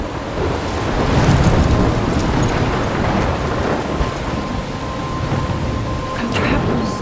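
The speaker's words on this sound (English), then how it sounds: "I'm trapped in a storm?" Thunderstorm with heavy rain in the video game Life is Strange, a steady dense roar of rainfall with low rumbling thunder rolling underneath throughout, no voices.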